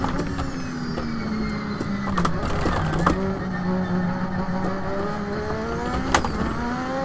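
A Lotus 98T Formula One car's engine revs hard under throttle in Assetto Corsa, a continuous loud howl with rising and falling pitch sweeps and brief sharp gear-change spikes, up close with no talking.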